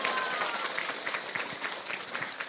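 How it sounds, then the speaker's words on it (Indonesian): An audience at an Islamic religious gathering applauds, giving a steady, moderately faint wash of clapping from many hands that lasts a couple of seconds. "tepuk tangan dulu dong"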